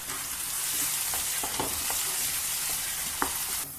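Salted potatoes fry in a pan with a steady, close sizzle, broken by a few faint clinks and scrapes and one sharper tap near the end; no voices.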